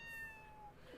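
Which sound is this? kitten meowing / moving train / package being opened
kitten meowing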